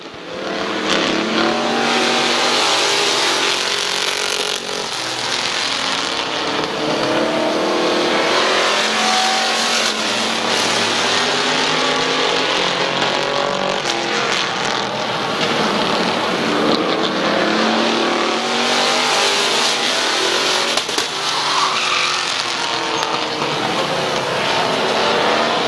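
Race cars roar around Midvale Speedway during a dirt-track heat race, engines loud and continuous, rising and falling in waves as the pack passes close and pulls away.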